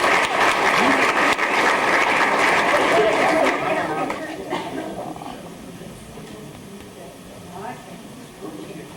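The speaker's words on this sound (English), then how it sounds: "please hold your applause till we get done with all these, Sarah Marie Fitz." A school anniversary crowd applauding loudly with dense clapping that gradually fades and thins over several seconds, with murmuring voices underneath.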